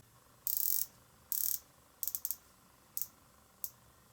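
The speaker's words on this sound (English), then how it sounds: "the sub has the unidirectional bezel, being a diver's watch, having 120 clicks" A Rolex Submariner diver's watch's unidirectional 120-click bezel is turned, giving close, crisp ratcheting clicks in short bursts: two longer runs followed by a few quicker single and double clicks with quiet gaps between.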